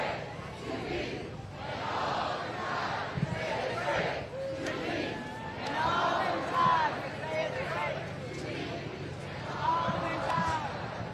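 Auburn basketball fans gather as a crowd at the Tiger Walk before a Final Four game against Florida, and their cheers and chatter swell and fall, with shouts rising above a busy murmur and a voice talking over it.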